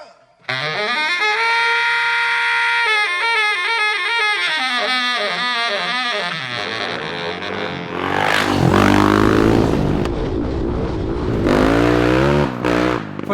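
A modern dirt bike motorcycle engine, built with a vintage look, revs loudly at close range, its pitch swinging up and down through repeated throttle blips before breaking into a rougher, louder roar toward the end.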